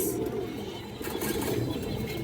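A female pigeon, kept for sale among fancy breeds, gives soft, low, throaty coos in a continuous murmur, close by with a faint hiss in the background.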